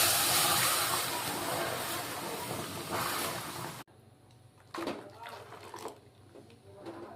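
Milk poured into hot sugar caramel sets off a loud, dense hissing sizzle for about four seconds, then drops to a quieter bubbling simmer while a voice talks over it.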